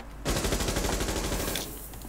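A burst of rapid automatic gunfire in Tom Clancy's Rainbow Six Siege rattles steadily for over a second, loud and dense, then cuts off into a lingering echo.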